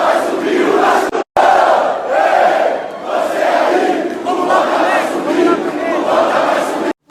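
Botafogo football fans chanting in a loud rhythmic mass of voices to mock rival Vasco, the crowd roaring close and steady with brief cuts in between.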